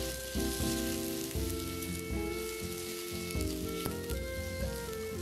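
Imitation crab sticks stir-fry in a hot pan, giving a steady close sizzle broken by repeated soft scrapes and taps as they are tossed.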